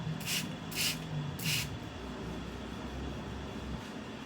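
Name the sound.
spraying facial toner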